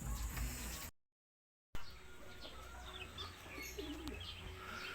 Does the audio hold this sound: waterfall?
no